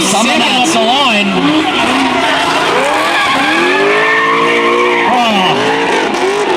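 A Toyota Corolla drift car at a drift event launches off the line with loud, sustained tire squeal and wavering engine revs over several seconds, close and continuous, with a voice talking over it.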